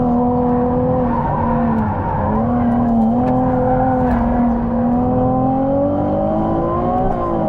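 A Ferrari 296 GTB drives hard around the Nürburgring, its engine a steady, loud drone that rises and falls slightly as the car slides through a corner. The sound is continuous and close, with no voices over it.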